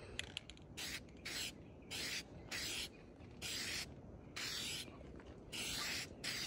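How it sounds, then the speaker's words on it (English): Repeated short bursts of hissing spray from an aerosol spray paint can applying primer to a car hood, evenly spaced with brief pauses between, close by over faint background noise. "So right now we're just applying a primer."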